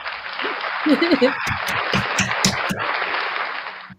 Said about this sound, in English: round of applause for our guests for Frauditor Roundup